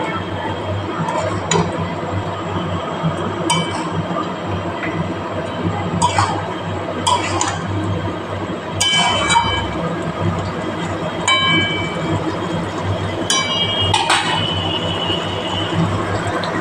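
Chicken with potato and papaya is stirred in a pot, a spoon scraping and clinking against metal every few seconds over a steady low hum, with someone talking throughout.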